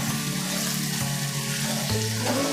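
Moringa and mutton fry in a pot with a steady, close sizzling hiss and some faint clatter, with no voices.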